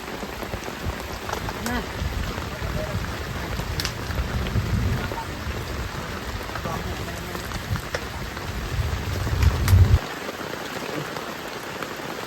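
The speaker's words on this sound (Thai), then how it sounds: "ฝนตกหนักมากครับทุกคนตอนนี้ หนักฝนตกหนักตอนตีสาม" Heavy rain pours down at night in a deep forest campsite during a storm, a dense continuous roar of drops on surfaces with low rumbling wind underneath that cuts off near the end.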